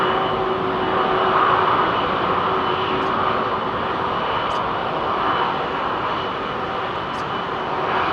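A Lufthansa Airbus A340-600 passes at London Heathrow, its jet engine roar steady, loud and fairly close throughout with a slight swell near the start, and no voices.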